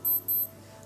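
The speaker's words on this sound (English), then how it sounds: "from the alarm mode, press and hold the start button, and it will give beeping sound like this" A Casio G-Shock GA-B2100 watch gives two short, high electronic alarm beeps in quick succession, close and clear, then falls quiet.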